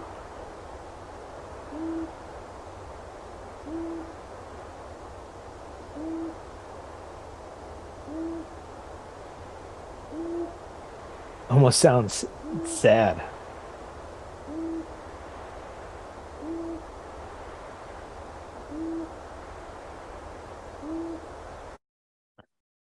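Recorded owl giving a classic hoot, soft low hoots repeating at a steady interval over faint background hiss, with a brief louder burst of other calls midway.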